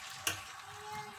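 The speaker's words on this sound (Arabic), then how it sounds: "بعد ما سخنتينا المقلة نديرو النصف ديال الخليط ديال البيض" Beaten egg mixture poured into a heated frying pan sets off a brief sharp splash and then a quiet, steady sizzle, faint and close.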